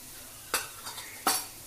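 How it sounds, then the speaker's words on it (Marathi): Chili powder, turmeric and onion-garlic masala being stirred in a hot pan for kurdai bhaji: faint background sizzle broken by two sharp spatula scrapes against the metal. "आणि आपण ते छान परतून घेणार आहोत"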